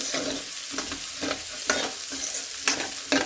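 Onions frying in oil in a pan, stirred repeatedly, giving a continuous near sizzle broken by regular scraping strokes of the spoon, with no talking.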